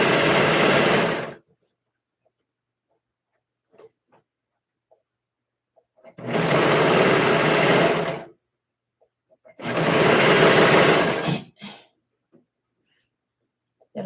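A sewing machine stitches pleats on a dress in three loud, steady bursts of about two seconds each, separated by quiet pauses with faint handling noises.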